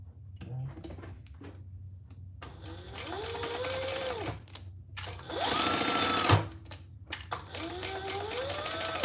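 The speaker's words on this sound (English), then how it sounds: "we're gonna sew that together at the full seam allowance" Sewing machine stitching a seam on a fabric sling, running in several bursts that stop and start, with a longer steady run near the middle, close and clear with no talking.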